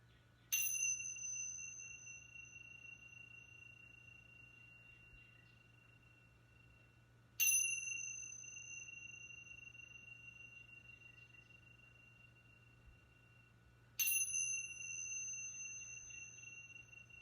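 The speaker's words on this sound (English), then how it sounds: "giving permission for the sounds of the bells to resonate, to reverberate" Three separate strikes of a resonant bell, evenly spaced several seconds apart, each ringing clearly and then fading in a long, slowly decaying tone over a quiet, faint background hum.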